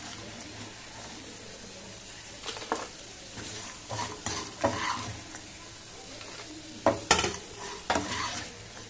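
Ginger fries in hot oil while a spoon stirs it in a pan, giving a steady soft sizzle broken by scraping strokes and a few louder metallic clinks, close and alone without talk.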